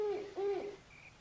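An owl hoots at night near a wooded trail, giving two clear, close, wavering hoots, then a fainter, higher call.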